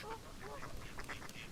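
Several ducks quack in a few short, close calls, with a low murmur running underneath.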